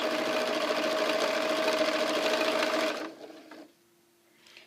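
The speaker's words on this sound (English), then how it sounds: "I'm just sewing down here with 1/4 inch." A sewing machine stitches a quarter-inch seam at the pointed top corner of a quilted Christmas tree, a close, steady rapid whirring hum that stops abruptly after about three seconds, leaving a quiet room with a faint low tone.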